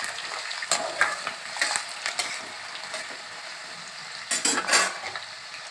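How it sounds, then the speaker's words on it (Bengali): Potatoes frying in oil in a wok, a steady sizzle broken by repeated scraping and clinking of a metal spatula as they are stirred, close and clear with no talking. "এবার আমি আলুটাকে ভালো করে ভেজে নিচ্ছি।"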